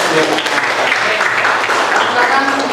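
Classroom applause from students, a close, lively patter of clapping mixed with voices speaking over it, loud and continuous.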